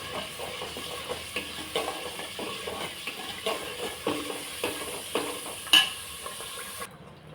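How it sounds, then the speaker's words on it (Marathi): Ground masala paste roasting with ginger-garlic paste in an oily pan for a chicken curry, a soft steady sizzle punctuated by rhythmic spoon stirs and one sharper clink. "आता आपण बनवलेले वाटण घालूया आणि तेही ह्यासोबत भाजून घेऊया"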